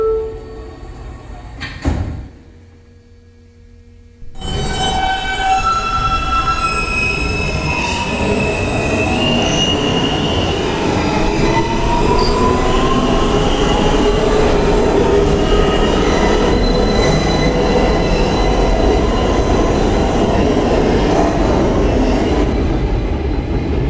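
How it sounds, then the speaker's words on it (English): A New York subway F local train pulls out of a station after a short quiet gap, steel wheels squealing and rumbling loudly as the cars accelerate, with a rising whine and a steady clatter on the rails. "This is a Queens-bound F local train via Roosevelt Island."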